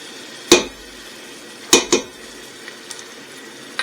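A metal spoon clanks sharply against a pot three times while garlic goes in with browning onions for cream of mushroom soup, with a faint sizzle underneath and soft clinks toward the end.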